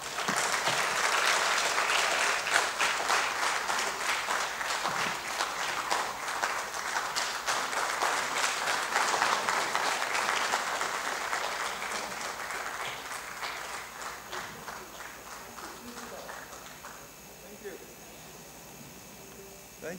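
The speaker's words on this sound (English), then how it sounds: "With a clap ovation, let's welcome to the podium Mr. John Nkor." Audience applause at a social entrepreneurship and philanthropy conference as a speaker is welcomed to the podium: dense, sustained clapping from a large crowd that holds steady, then gradually thins and fades toward the end.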